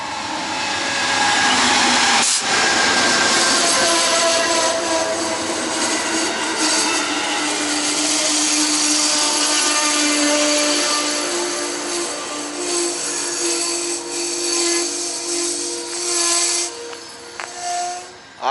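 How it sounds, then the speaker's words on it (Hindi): A six-car train pulled by dual-mode diesel-electric locomotives passing through Amsterdam, New York, a loud steady rumble of wheels over rails with squealing tones and engine drone, holding close for most of the pass before easing slightly. "आज जो ट्रेन है उसमें 6 कार्स हैं, और इन लोकोमोटिव्स की ख़ास बात ये है कि ये डुअल मोड है"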